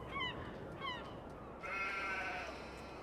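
Sheep bleat in Farming Simulator 22 on the Hallig Petrus farm, with two quick, wavering bleats close together near the start, followed by a steadier tonal call, all over a low background hum.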